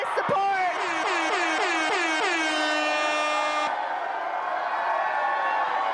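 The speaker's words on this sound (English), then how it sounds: "The air horn? The air horn?" An air horn blares in a rapid series of short honks that run into one long sustained blast, loud and close, with crowd noise behind it at a political victory event in Denver.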